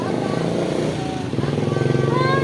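Motorcycle engine on a street, a steady close putter that pulses faster and louder toward the end, with people talking over it.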